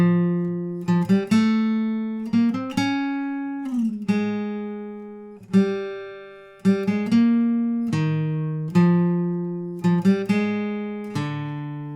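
Clean acoustic-style guitar picking the opening line of a song, single plucked notes and small clusters ringing out one after another in a slow, steady rhythm, clear and alone.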